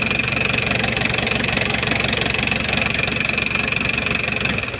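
An Isuzu 4JA1 diesel engine from a Hi-Lander runs with no muffler fitted, giving a loud, close, steady idle with a rapid even diesel knock that holds for the whole stretch. No voices are heard.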